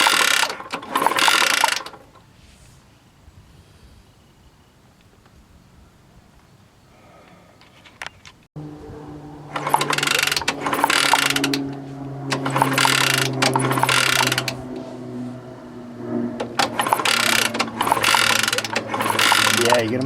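A ratchet clicks in quick bursts while a bolt and nut are screwed down on a 1964 Honda S90 motorcycle, close and sharp, with a quiet pause between the opening burst and several later runs of clicking.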